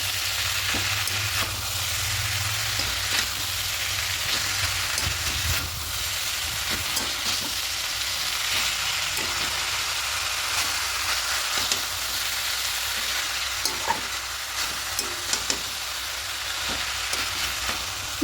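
Chicken and cabbage fry in a pan with a steady, loud sizzle, broken by soft scrapes and clacks as the mixture is stirred and tossed, with no talking.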